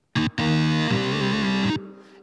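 An electric guitar patch with distortion on a Roland FA synthesizer plays a short stab and then a sustained, buzzing distorted chord that bends slightly before cutting off, loud and alone.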